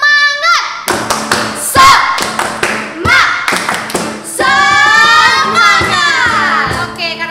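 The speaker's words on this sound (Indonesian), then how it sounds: "Tepuk semangat." Children clap and chant a rhythmic 'tepuk semangat' cheer at a Sunday school service. There are loud group claps in bursts with lively young voices singing over them, close and energetic throughout.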